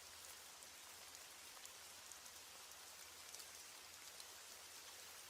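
Steady rain falls throughout at night, a constant even hiss of drops on surfaces with no voices, sitting at a low, uniform level from start to finish.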